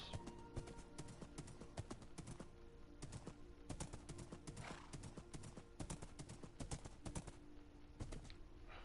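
Rapid, uneven hoof clip-clops of a horse in Minecraft, steady and fairly close, with occasional sharp clicks over a constant background hum.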